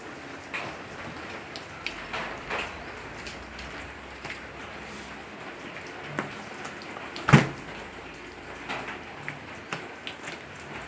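Rain falling outdoors during a delivery run, a soft steady patter with scattered sharper drips and one brief louder knock midway, with no voices.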